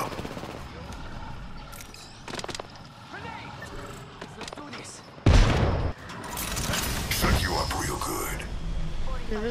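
Gunfire in the video game Apex Legends, scattered shots and a sharp loud burst midway, followed by continued firing, with people talking over it.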